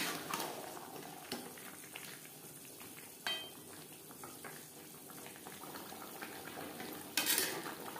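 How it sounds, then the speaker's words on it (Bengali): Chicken pieces and potatoes being stirred together in a pot for a restaurant-style chicken curry: soft scraping and occasional spoon knocks over a low simmering hiss, fairly quiet, with no talk. "চিকেনের সাথে আলু বেশ ভালো করে মিক্সড করে দেবো।"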